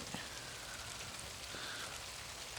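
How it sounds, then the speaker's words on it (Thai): Light morning rain falls over a mango orchard in Thailand, a soft, faint, even patter with a few distinct drops and no talking. "ฝนตกครับเช้านี้"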